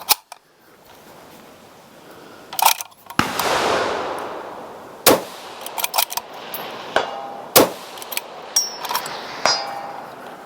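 MDT metal rifle magazines are pushed into a JP rifle chassis for a precision rifle build, giving a series of sharp metallic clacks and clicks, close and loud, with a brief rattling rustle between insertions.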